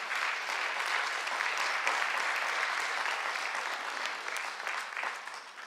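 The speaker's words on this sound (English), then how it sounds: "So let's give a round of applause to my grandmother and all of you" Sustained applause from an audience at a school mural project event, dense steady clapping from many hands holding an even level for several seconds before easing slightly, with no speech over it.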